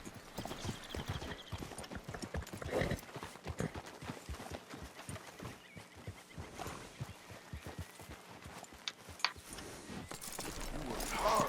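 Horse hooves clip-clop in a steady walking rhythm through the whole stretch of Red Dead Redemption 2 gameplay, close and moderately loud, with faint game sounds mixed in.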